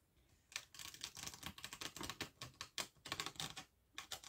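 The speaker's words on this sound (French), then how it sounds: "je vais encore mélanger pas mal." Tarot cards shuffled by hand give a rapid run of crisp, close slapping and riffling clicks. It sounds quiet and intimate, with no talk.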